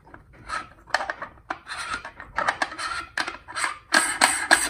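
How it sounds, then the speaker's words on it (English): Metal threads of a coma corrector scraping and turning as it screws onto a camera adapter, close and alone: a series of short rasping grinds and clicks in uneven bursts, with a sharper cluster of scrapes near the end. "I'm going to use a 21 plus the comma corrector, which screws right there"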